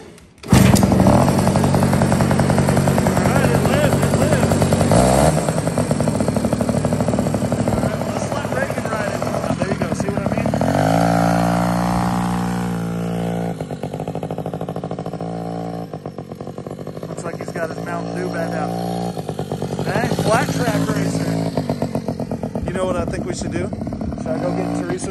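A Yamahopper moped's small engine runs loud and close throughout, a buzzing drone that rises and falls as the throttle changes, with people talking over it.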